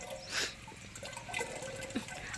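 Quiet water trickles steadily into a drinking-water container, with a few soft splashes and drips over a low, even background.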